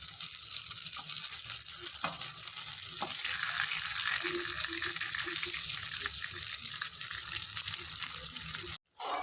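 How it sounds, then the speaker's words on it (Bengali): Pieces of chhana frying in a mix of mustard oil and white oil until lightly reddened, giving a steady close sizzle and hiss that runs unbroken before cutting out briefly near the end. "দিয়ে দিলাম সরষের তেল, সাদা তেল। হালকা লাল লাল করে ভেজে নিচ্ছি।"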